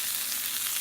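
Potatoes fry in butter in a pan, giving a close, steady hiss of sizzling fat without pause over a brief moment.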